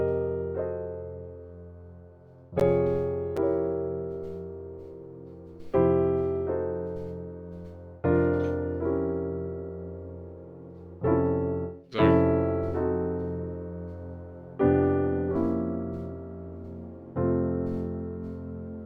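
Piano chords in F struck one after another at a slow, steady pace, each ringing out and fading before the next, clear and close with no talking.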